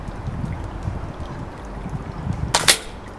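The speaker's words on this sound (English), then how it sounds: "Just take a zeroing shot at the top" A rifle fires a single zeroing shot at a target outdoors: one sharp, loud crack near the end, following a few seconds of low wind-like background.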